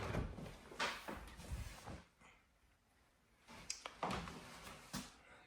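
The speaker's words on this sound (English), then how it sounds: "Let's open this closet door up real quick." A house closet door is opened in a quiet room, giving several soft creaks, rubs and light knocks over a few seconds, faint and close.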